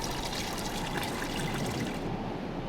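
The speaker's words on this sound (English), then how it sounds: "Finally, the valves started dripping." Petroleum trickling from a valve in the video game Art of Murder, a continuous soft liquid dribble and splash heard alone at a low level for a few seconds.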